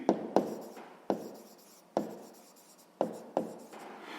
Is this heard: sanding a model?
no